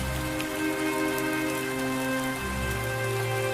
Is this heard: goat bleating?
no